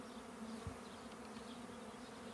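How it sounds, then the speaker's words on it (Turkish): A steady, low droning hum of many bees buzzing together, close and continuous, with no voices. "Arılar aşağı gelir."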